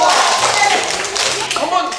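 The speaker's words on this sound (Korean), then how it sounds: "박수." A few people clap their hands in a short burst of applause during a taekwondo class, close and fairly loud, with voices faintly underneath.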